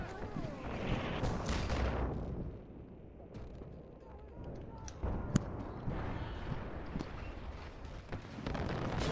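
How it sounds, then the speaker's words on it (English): Several heavy 700 Nitro rifle shots in the Far Cry 4 video game, loud booming reports with sharp cracks spread across the stretch, mixed with other gunfire and sound effects, while a player talks over them. "two shots of a 700 nitro and these guys are fucking toast"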